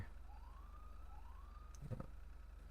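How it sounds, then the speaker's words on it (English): A police car siren wails in a roleplay video game, a rising and falling tone sweeping twice over a low steady engine hum, with a brief click near the end. "Hit sirens, bright white lights are on."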